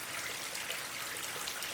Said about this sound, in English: I finally had a working waterfall.